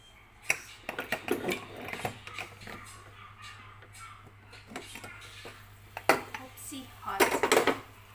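A pressure cooker being opened after steaming, with metallic clanks of the lid and pot handled close by, scattered bangs and scrapes, a faint steady hum underneath, and occasional speech.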